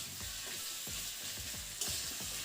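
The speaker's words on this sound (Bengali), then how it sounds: "আমি এটা ভাজতে থাকি" Mustard paste and ginger-garlic paste frying in a pan, a low bubbling sizzle with a regular rhythm of soft spatula strokes scraping and stirring, close and fairly quiet.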